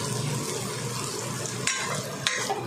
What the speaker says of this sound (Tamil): இந்த அளவுக்கு ஃப்ரை ஆன போதும்.